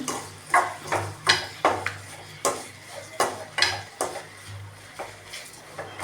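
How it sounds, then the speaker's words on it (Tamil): A spoon stirring chili powder in oil in a pan for chili pickle, with sharp metallic scrapes and clinks against the pan at an irregular rhythm over a faint low sizzle, no voices. "இப்போ எண்ணெய் கற்கிற மாதிரி நம்ம அழகாக கிண்டி எடுக்கணும்."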